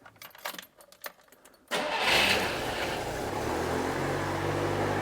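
A Polski Fiat 125p ambulance engine turns over and catches after some faint clicks and jingling, then settles into a steady, loud idle with the choke partly pulled.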